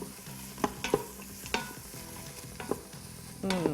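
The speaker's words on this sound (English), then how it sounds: "you're just gonna stir that around a little bit" Onion and celery sauté in an Instant Pot while a utensil stirs them, giving several distinct scraping knocks against the pot over a soft, quiet sizzle, close and unaccompanied by talk.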